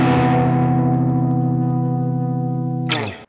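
An electric guitar, processed through effects with distortion and reverb, rings out one sustained extended shell chord voicing in standard tuning for a math rock part, then a second chord is struck near the end.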